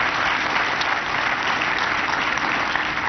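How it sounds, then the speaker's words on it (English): Sustained, even applause from an audience at the Providence State of the City Address honouring students, filling the room steadily without voices. "So we'll give you another round of applause."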